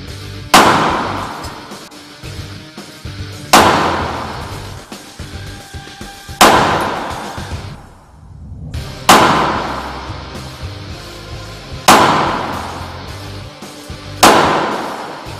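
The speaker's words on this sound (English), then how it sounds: "We will continuously shoot 6 rounds of ammunition." Six pistol rounds fired one at a time in a ballistic test, each a loud sharp bang with a ringing decay, spaced about every two to three seconds, no talking.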